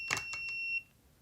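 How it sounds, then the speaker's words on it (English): A Sunlu FC01 filament fusion device beeps on reaching temperature: a few short chirps followed by a sustained two-tone high-pitched tone lasting about half a second, close and clear, then quiet. "When the unit does finally get to temperature, it'll beep to let you know."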